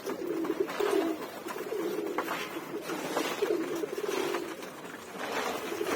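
Pigeons kept in a loft coo steadily through the whole stretch, a soft rolling murmur from several birds close by, with light pattering and shuffling underneath.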